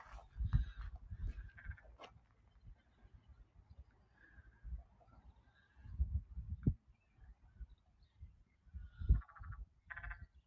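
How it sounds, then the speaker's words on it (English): A loud frog calls from vegetation in Portland's Silo District in bursts of low croaks and raspy, nasal notes, several separate calls spaced over ten seconds with quiet gaps between. "That's a frog."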